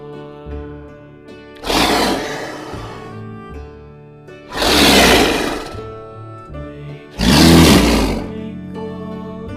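Three loud, rasping roars of a big cat, each lasting about a second, spaced a few seconds apart over a low steady background.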